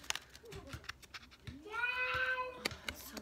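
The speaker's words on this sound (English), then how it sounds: "why is my cat in there?" A pet cat meows in a drawn-out, rising-then-level call midway through, set against soft rustling and handling noises of a mail-unboxing at home, with no talk during the meow.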